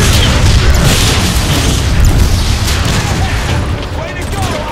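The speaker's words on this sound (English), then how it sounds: "Rocket incoming!" A rocket explosion in the Transformers: Fall of Cybertron video game, a loud, sustained booming roar with rumbling debris that fills the whole clip, slowly easing toward the end.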